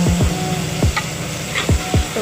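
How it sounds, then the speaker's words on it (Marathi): Tomato stirred and sautéed in a pan with garlic-ginger paste for methi matar pulav, giving a steady close sizzle broken by several sharp scraping strokes of a spatula against the pan, with no talking. "लसूण परतून झालं की त्याच्यामध्ये एक टोमॅटो टाकायचा, टोमॅटो चांगला परतून घ्यायचा आहे."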